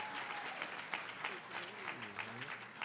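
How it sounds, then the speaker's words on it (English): Audience applause at a 2024 Hondros College of Nursing graduation ceremony, a steady wash of clapping filling the hall for a few seconds, with voices talking over it. "give a round of applause to Dr. Heidi Shank"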